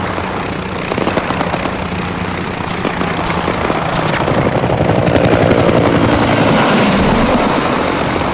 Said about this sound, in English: Helicopter that flew over.